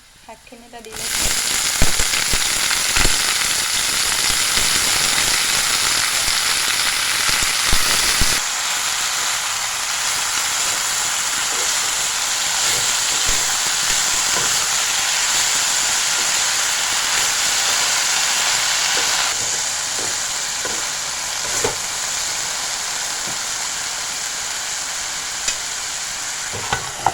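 Leafy greens drop into a hot wok and fry with a loud, dense hissing sizzle that holds for most of the stretch, punctuated by spatula scrapes and pops, easing somewhat toward the end.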